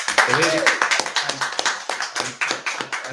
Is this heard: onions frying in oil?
no